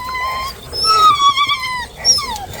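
Several dogs in a yard whine and yelp close by in high, wavering cries, overlapping in short bursts rather than full barks.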